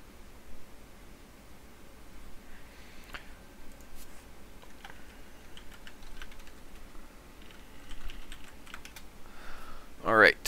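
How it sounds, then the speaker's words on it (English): Computer keyboard keys clatter in quick irregular bursts as someone types into a game chat, faint under low background noise, with a louder flurry of clicks at the end. "Alright, typing the game type in the chat."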